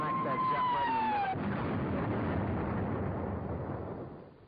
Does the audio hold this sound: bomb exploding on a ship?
yes